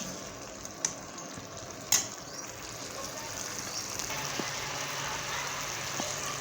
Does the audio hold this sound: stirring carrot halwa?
yes